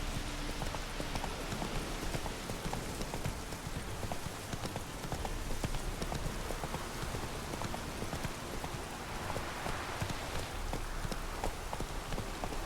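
A horse gallops in The Witcher 3 video game, its hooves making a continuous, rapid clip-clop at close range over a bed of rain-like noise.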